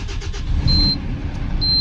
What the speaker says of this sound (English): Truck has started.